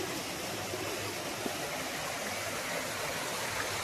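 Rajai waterfall in Sunamganj gives a constant, even rush of falling water, a soft and steady roar with no voices over it.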